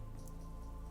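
Rain falls steadily in a Fate/Stay Night visual novel scene, very faint, with soft patter over a low, continuous bed and no voices.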